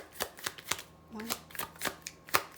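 Tarot cards drawn one by one from a deck, giving a few crisp slapping snaps at an uneven pace, with a faint low hum behind them.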